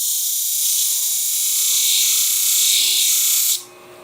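Shears being sharpened on a grinding machine, a steady loud high-pitched hiss of metal abrasion sustained for several seconds before cutting off abruptly, close and with no one talking.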